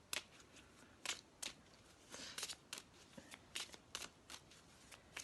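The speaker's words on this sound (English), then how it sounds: "I'm going to shuffle up these cards too" A deck of new Gypsy tarot cards being shuffled by hand, close and quiet, with a rapid irregular run of crisp riffles and snaps, a few brief gaps between bursts, and no talking.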